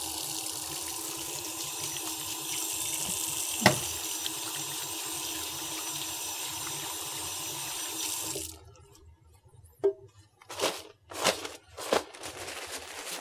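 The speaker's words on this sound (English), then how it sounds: "I'm just going to wash my hands" Hands washed under a running tap before a blood pressure examination, a steady stream of water for about eight seconds, then stopping, followed by a few short splashes and handling sounds, close and moderately loud.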